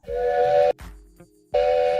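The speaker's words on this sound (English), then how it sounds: "Gotta have a train whistle." Steam train whistle: two loud, sustained shrill blasts separated by a short gap, each starting and stopping abruptly, with a hiss of steam beneath.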